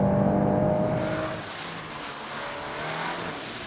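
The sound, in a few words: Volkswagen Golf 8 R Variant drifting on wet racetrack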